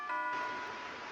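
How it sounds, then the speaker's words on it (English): A doorbell chimes in the NEKOPARA visual novel game, one clear electronic tone that rings briefly and fades fast. "Oh, doorbell."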